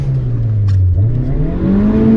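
A VAZ 2109 car engine hums loudly and close as the car rolls into a car wash, the pitch dropping and then rising steadily as it pulls in.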